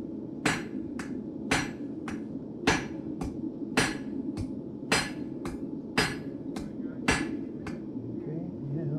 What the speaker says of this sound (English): one of the things with blacksmithing is you can only hit it while it's hot like that